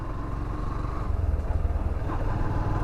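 A motorcycle engine runs steadily in third gear, a close continuous droning hum with slight pulsing and no voices.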